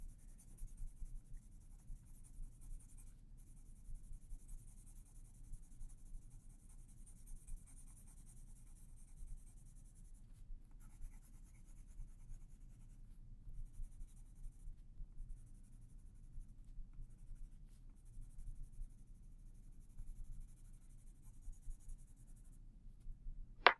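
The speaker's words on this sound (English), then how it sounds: "I'm going to take my pencil and I'm going to shade under the line we just made." A pencil shades the area under a drawn line on paper for a graphing exercise, making a steady, close, continuous scratching that runs throughout with small rhythmic strokes and no talking.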